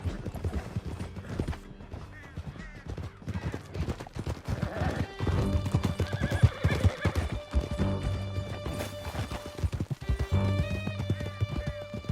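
Horses gallop in Red Dead Redemption 2, steady clip-clop hoofbeats with whinnies and neighs over a rolling backdrop of game music and ambience; voices speak intermittently.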